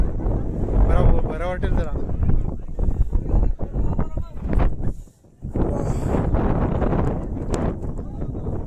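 Gusty wind buffets the microphone on the Brahmagiri mountain trek near Trimbakeshwar, a steady low rumble lasting throughout with a brief lull midway, while people chat over it.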